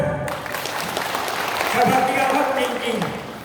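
A seminar audience on cannabis cultivation breaks into applause, a continuous wash of clapping from many people with some voices mixed in.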